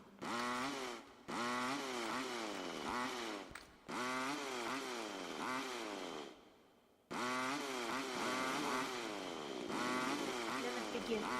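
A cutting saw in the horror video game Panicore, a loud whining buzz in long repeated bursts separated by short pauses, close, with speech underneath.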